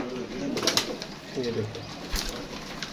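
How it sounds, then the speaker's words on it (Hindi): Pigeons in a fancier's loft setup give soft, low cooing calls scattered through the moment, with someone speaking nearby over them. "कबूतर देख लें, एक से बढ़कर एक कबूतर है"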